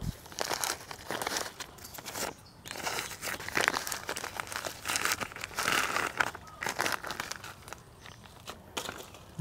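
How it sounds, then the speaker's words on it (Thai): A plastic bag of mangoes being torn open in an organic mixed orchard: sustained close crinkling and crumpling of plastic with sharp tearing bursts throughout, fairly loud and without talk. "ฉีกถุงเลย"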